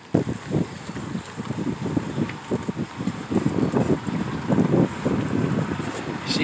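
Steady wind buffeting the microphone in gusts, mixed with the low drone of a 1992 Johnson 60 hp outboard boat engine over water, loud and continuous throughout.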